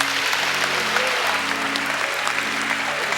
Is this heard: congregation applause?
yes